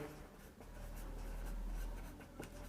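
Faint scratching of writing on a board during a class 8 maths lesson on simultaneous linear equations, soft and continuous over a steady room hum, with no talking.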